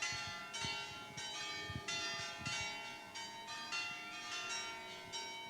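Church bells ring in steady repeated strikes, their long overlapping tones sustained and moderately near, with no voices present.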